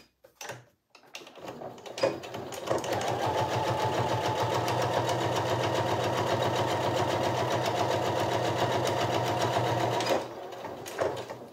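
A sewing machine runs steadily for about eight seconds, stitching piping along the edge of a Charly belt bag with the needle position shifted to sew closer. The motor hum and rapid needle rhythm are close and even, with no talking.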